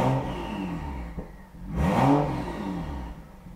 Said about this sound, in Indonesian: Jadi ini knalpotnya sudah diganti.